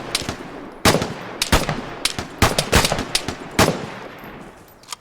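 Gunfight in the game Vigor: a series of sharp, loud shots at irregular intervals, some close and punchy, others in quick pairs, with no talk over them.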